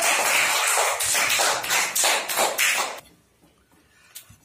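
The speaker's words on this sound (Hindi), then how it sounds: "ताली बजाइए" Children clap their hands during a Sanskrit lesson, a dense burst of many claps for about three seconds that then stops, leaving faint room sound.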